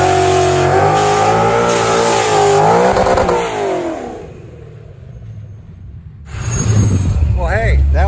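A 2011 Ford Mustang S197 with a high-mileage Coyote V8 and a Vortech JTB race supercharger revs hard into a burnout, the loud engine rising and falling, dipping briefly, then roaring back with tire squeal near the end.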